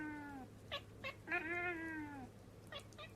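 A cat meows several times in a short, clear sequence: a long drawn-out call, then quick chirpy meows. It is close and fairly quiet, with no talking.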